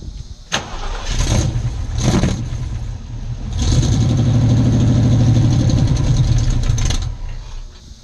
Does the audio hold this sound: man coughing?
no